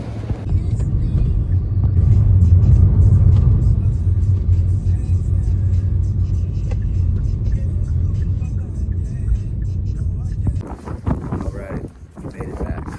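Car ride through snowy Manhattan, a loud steady low engine and road rumble with wind noise, easing toward the end as the car slows.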